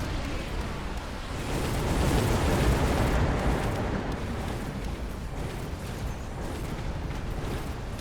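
Missiles fall in an air bombardment in a strategy video game, a sustained rumbling roar of explosions that swells in the middle and then settles into a steady low wash, heard on its own.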